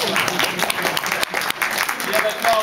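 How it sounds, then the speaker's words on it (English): Red-carpet crowd at the 42nd NAACP Image Awards nominees press conference clapping and cheering, a dense steady wash of applause with voices and shouts mixed throughout, close and loud. "Put your camera down and clap your hands real"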